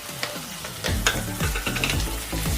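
Tomatoes with salt fry in a pan and are stirred, producing a loud, close sizzle under a rhythmic scraping of the utensil against the pan, with no talk.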